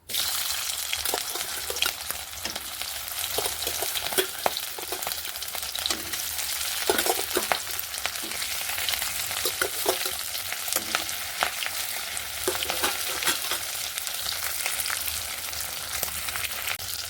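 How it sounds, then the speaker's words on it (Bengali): Fish pieces re-frying in hot oil in a wok, a steady dense sizzle and crackle running the whole time with occasional sharper spits and stirring clinks, close and fairly loud, no talking. "ভাজা মাছটা আর একবার একটু ভালো করে ভেজে নেব"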